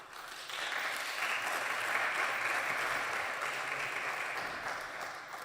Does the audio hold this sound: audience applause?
yes